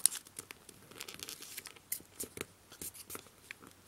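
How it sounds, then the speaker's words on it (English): Paper being creased and folded for an origami wolf claws model, quiet crinkling and soft rustling rubs in short irregular bursts up close, with no talking. "now all you have to do is fold along this edge here"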